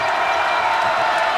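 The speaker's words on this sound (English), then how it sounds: "The crowd already alive here in Hilton Coliseum." Basketball crowd noise fills Hilton Coliseum at a college game, a steady, dense roar of cheering and chatter with no breaks, loud and broad throughout.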